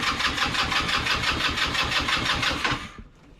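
Scooter engine fitted with a race carburetor and no accelerator pump, choked, catching and sputtering in a steady loud rapid chug for about three seconds before cutting out.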